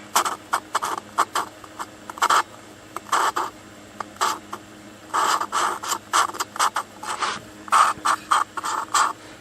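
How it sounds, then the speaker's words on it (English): Gritty scraping and grinding comes in short, uneven bursts as an engine valve is lapped with abrasive lapping compound, close up. "Hear that valve lapping compound in there?"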